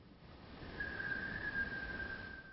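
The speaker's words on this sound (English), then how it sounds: "Can you whistle one more time?" A single sustained whistle from upstairs in a house, heard faint and distant, holding one steady pitch for about two seconds with no talking over it.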